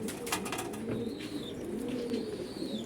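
Fancy pigeons in custom-built cages coo softly and repeatedly over a steady background murmur, with a brief rustle of wings.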